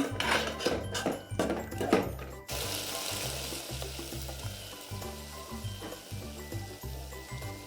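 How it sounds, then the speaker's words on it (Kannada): Gram and potatoes fry in oil in a pan for a taro-leaf sambar, a soft steady sizzle with stirring scrapes and a few clinks near the start. "ಕಾಳು ಮತ್ತು ಆಲೂಗೆಡ್ಡೆ ಎಲ್ಲ ಸ್ವಲ್ಪ ಹೊತ್ತು ಫ್ರೈ ಆಗಬೇಕು"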